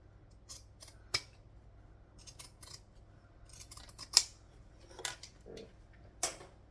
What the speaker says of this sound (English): zigzag scissors. Trim off that excess.